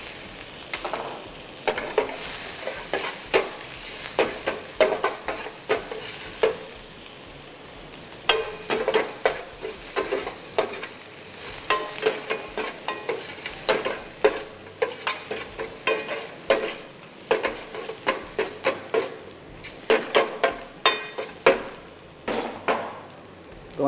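Onion, garlic, ginger and green chillies fry in a pan for dal tadka, a constant soft sizzle broken by frequent, rhythmic scrapes and clacks of stirring, close and clear with no talking.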